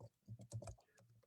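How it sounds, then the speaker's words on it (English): Quick bursts of typing on a computer keyboard while logging in to Heroku, a handful of close, soft key clicks in uneven rhythm, fairly quiet and with no talking. "So to log in, I'm going to type Heroku"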